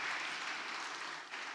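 Crowd applause at a Tamil school competition finale forms a short, continuous hiss of many hands clapping, fairly soft and steady throughout.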